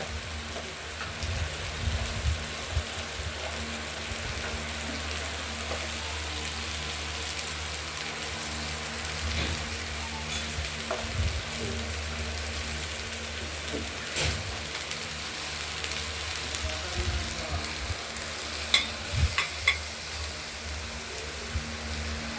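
Chopped pointed gourd frying in oil with a black cumin tempering, salt and turmeric, giving a steady, close, rain-like sizzle that continues without pause and without talk.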